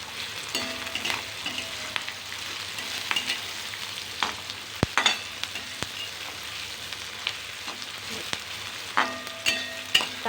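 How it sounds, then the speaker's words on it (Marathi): Soybean chili pieces fry hard in a pan on full gas, giving a steady close sizzle with repeated scraping stirs and small clinks throughout. "मस्त असं फ्राय करून घ्यायचं फुल गॅसवरती."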